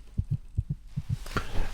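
A fast heartbeat sounds through a stethoscope during an examination, with about six quick, close, muffled thumps in paired lub-dub rhythm, followed by a soft rustle.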